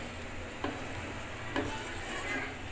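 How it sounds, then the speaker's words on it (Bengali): Milk heated in a pan for coconut naru is stirred continuously, giving a quiet steady simmering hiss with a few soft spoon taps against the pan, faint and close. "এরকম নাড়াচাড়া করতেই হবে অনবরত।"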